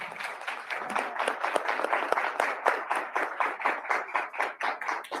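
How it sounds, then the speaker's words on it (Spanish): Loud, close applause fills a room at an international academic conference. Many hands clap, and the clapping gradually falls into a rhythmic, pulsing beat. "Démosle un fuerte aplauso"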